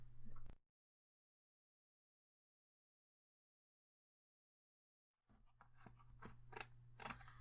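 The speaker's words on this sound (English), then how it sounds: "So here's where my craft knife comes in handy. I'm just gonna cut that off real quick." A craft knife slices off excess chipboard, giving close, crunchy scraping cuts in short bursts after a long silence.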